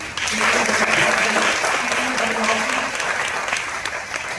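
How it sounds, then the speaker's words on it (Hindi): Loud, sustained clapping from a church congregation at a Christmas service in Gurdaspur, dense and continuous throughout, with a faint voice or tone briefly under it. "तालियां बजाओ जरा जोर से"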